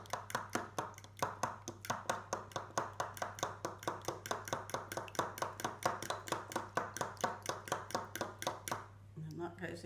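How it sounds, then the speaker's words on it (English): Eggs whisked with a fork in a bowl make a fast, even run of light taps and clicks, close and faint, that continues for several seconds and then stops. "And then whisk them with a fork"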